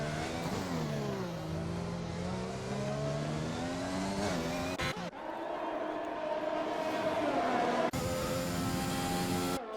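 A McLaren race car laps a virtual Canada circuit in a racing video game, its engine revving steadily and climbing in pitch through the gears, with abrupt shifts and a loud, continuous mechanical drone.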